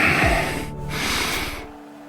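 A character sniffs close up in the video game Love & Deepspace, two long, breathy inhales in quick succession, loud and intimate, with a faint tone lingering beneath and no speech.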